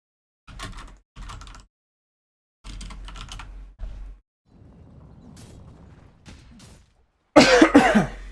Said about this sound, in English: that's a cough, my bad.